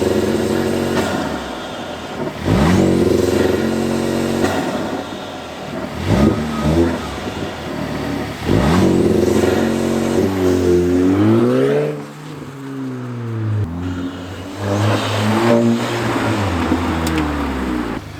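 An Audi A4 with a turbo and new intake held on launch control around 2,500 RPM, its engine droning loudly and steadily, then revving up and down in rising and falling sweeps close by.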